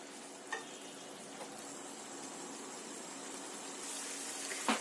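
Mutton for yakhni pulao sautéing in a pot produces a soft, continuous sizzle with faint scraping stirs and a couple of clinks, building slightly louder toward the end.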